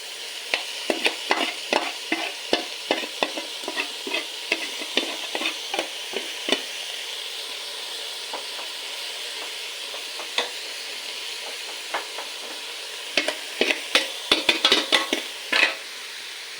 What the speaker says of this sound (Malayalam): ഇതിലേക്ക് ചീര ചേർത്ത് കൊടുക്കാം.